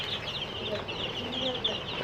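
A crowd of seven-day-old farm broiler chicks cheeps constantly, many high thin peeps overlapping in a busy, close chorus with faint background noise.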